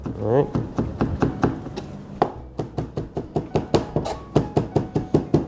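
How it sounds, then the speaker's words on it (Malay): Rapid, steady knife strikes finely chopping garlic on a cutting board, a long run of sharp chopping taps with a brief pause partway through, close and fairly loud. "Mana yang nampak besar-besar kita cincang sikit lagi."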